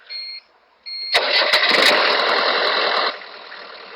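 A hotwired car engine cranks briefly after a couple of short electrical buzzes, then catches and roars loudly for about two seconds before dropping to a steadier, quieter idle.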